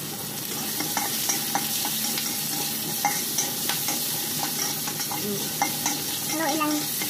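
Food frying in a pan while being stirred and salted, with scraping stir strokes over a steady crackling sizzle, close and fairly loud throughout.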